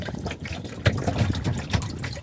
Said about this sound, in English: But y'all hear that doom, doom, doom, that's water slapping the plastic.